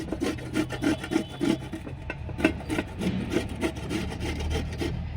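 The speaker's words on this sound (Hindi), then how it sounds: "इसको हमने आलू को ले लिया और इसको इस तरह से कद्दूकस कर लिया" A raw potato is grated by hand, with repeated rasping strokes in an uneven rhythm, close and moderately loud, and no voices.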